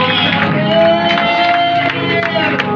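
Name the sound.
congregation cheering and acclaiming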